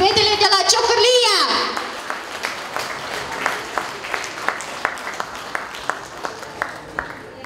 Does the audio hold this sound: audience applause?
yes